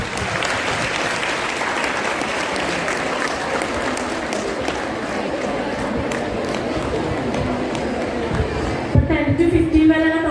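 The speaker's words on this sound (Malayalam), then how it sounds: "എല്ലാവരും കയ്യടിച്ച്" Sustained applause from an audience at a stage event where children with tokens are being called up, steady dense clapping with crowd babble throughout, then a louder burst of nearby shouting and movement near the end.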